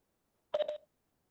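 Telephone keypad dialing tones from an unmuted phone: three short beeps in rapid succession, clear and isolated against silence.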